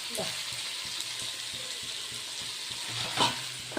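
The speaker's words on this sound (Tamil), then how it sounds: "நல்லா இன்னும் கொஞ்சம் நேரம் நல்லா எண்ணெயிலே வேகட்டும்." Pirandai (adamant creeper) frying in oil for kuzhambu, a steady close sizzle with faint rhythmic stirring taps and a brief louder crackle near the end.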